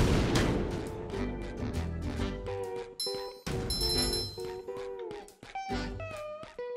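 A cannon fires in the SpongeBob Battle for Bikini Bottom video game, with several sharp booming shots struck over bright, clinking game music and chimes.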